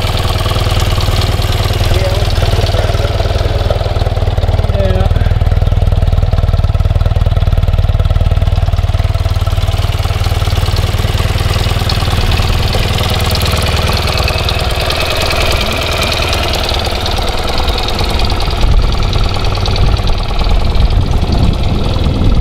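A 1982 BMW R65LS motorcycle engine idling after a cold start, a steady close, loud mechanical chug that holds evenly throughout with a slight knocking texture.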